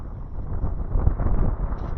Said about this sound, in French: On a un bon vent là pour rentrer, c'est bien.